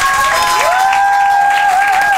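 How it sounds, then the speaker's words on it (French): An audience applauds at a courtroom-style show, a continuous loud wash of clapping and crowd noise with a sustained whistling tone running over it. "Public, applaudissez si vous pensez qu'elle est innocente."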